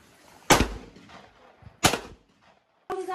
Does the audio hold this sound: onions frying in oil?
no